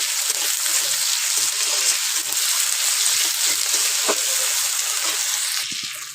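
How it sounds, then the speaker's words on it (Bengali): Green chilli, tomato and onion fry in a pan with a steady, close broadband sizzle that holds level throughout, a few faint clicks of stirring near the end and no voices. "তো কাঁচা লঙ্কা, টমেটো, পেঁয়াজ খুব ভালো করে ভেজে নেব।"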